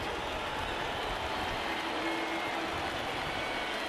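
A stadium crowd of more than 36,000 in the MLB The Show 20 baseball video game roars steadily as fans rise to their feet, a dense, continuous cheer that holds level throughout.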